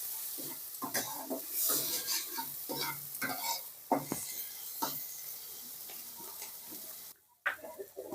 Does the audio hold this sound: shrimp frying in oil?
yes